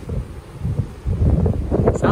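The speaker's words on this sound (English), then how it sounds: "Windy!" Gusty wind blowing through the trees of a backyard, a broad low roar that swells and buffets the microphone, growing stronger toward the end, with a voice faintly present.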